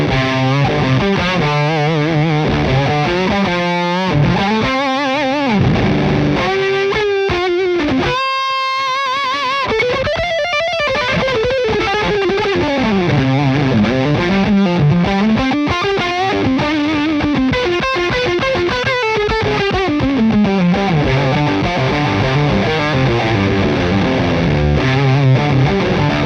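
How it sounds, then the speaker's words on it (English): Electric guitar played through a Walrus Audio Jupiter Fuzz pedal on the bridge pickup, loud and saturated, with sustained fuzzy chords and sliding lead lines, a short pause in the middle, then continuous playing. "So I'm using the Walrus Audio Jupiter Fuzz, much like with the Kraken video, and this is what we've got."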